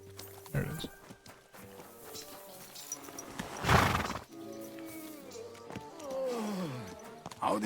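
A horse whinnies loudly in Kingdom Come: Deliverance II, then its hooves clop at a walk, close by over background music.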